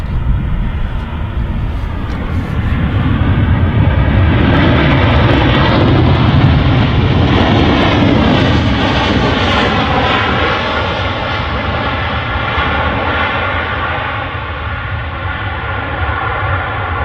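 A Ryanair airliner lands at Manchester Airport, its engines a loud, steady roar that swells and holds over about seventeen seconds, then eases slightly toward the end.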